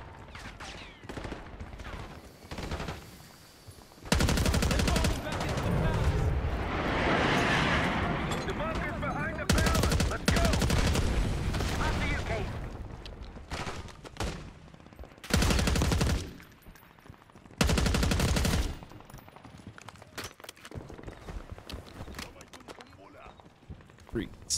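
Heavy gunfire from a firearm in the Black Ops 6 campaign, with repeated bursts and sustained loud shooting across the clip, broken by short pauses, while someone talks over it.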